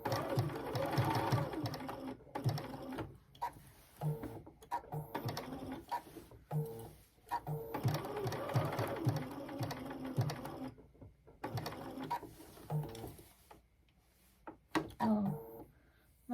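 A sewing machine stitches letters onto a personalized pillowcase in a series of short bursts of rapid needle chatter. Brief pauses separate the bursts, and quiet handling sounds fill the gaps.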